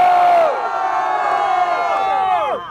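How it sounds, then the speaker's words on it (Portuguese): A crowd at a rap battle grand final in Barueri cheers and shouts loudly for about two seconds, then the noise fades out. "Barulho pra quem gostou das rimas do Refel e do Rap."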